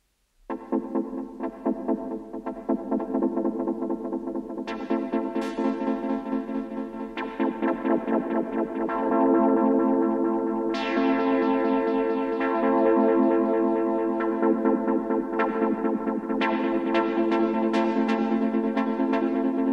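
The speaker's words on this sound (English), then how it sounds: "let's add some delay, but let's make it darker by applying a filter to the delay line" Repeating synth chords from a Eurorack modular system echo through a dark, filtered delay, the repeats smearing into a thick, pulsing wash with a steady dub techno feel.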